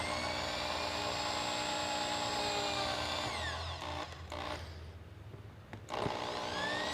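A power drill bores pilot holes into wood for a rustic wooden bracket, whining steadily for several seconds, then stopping briefly before spinning up again, close and loud.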